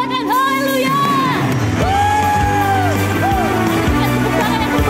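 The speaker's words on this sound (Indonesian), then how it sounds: "Berikan sorak-sorai yang paling meriah buat Tuhan kita Yesus Kristus." Worship congregation at a Sunday church service cheering and whooping for Jesus, a dense crowd of loud shouts and rising yells layered over music throughout.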